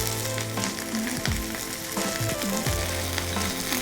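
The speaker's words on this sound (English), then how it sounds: "after sauteing the onions for 5 minutes" Diced onions with green chilli sauté in a hot pan for shahi paneer, a dense, close, continuous sizzle and crackle with faint stirring, and no one speaking.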